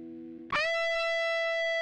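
A brief scraping attack, then one sustained, buzzing distorted electric guitar note through a GTC REVPAD with dry distortion, no delay, rings out steadily and clearly, with no other sound.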